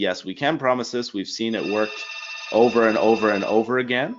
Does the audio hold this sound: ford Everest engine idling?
no